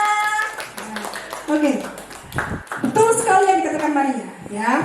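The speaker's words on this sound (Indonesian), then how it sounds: "beri tepuk tangan dong untuk Maria Francisca" Students in a school social studies class clap for a classmate, a loose patter of hand claps mixed with children's voices and chatter, fairly close and filling the room.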